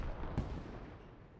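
An artillery strike lands in the military shooter Squad: a single sharp distant blast punches through a continuous low rumble of battle noise.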